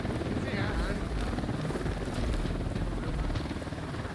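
Helicopter rotor thrum in the Ghost Recon Wildlands video game, a steady loud drone with wind-like rush filling the whole stretch, with voices faintly mixed in.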